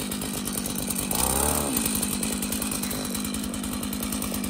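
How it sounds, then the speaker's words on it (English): A gas-powered ice auger on an Alaskan frozen lake runs steadily close by, a buzzing two-stroke engine drone with a brief surge as it bites, continuous throughout. "will now fire up the auger"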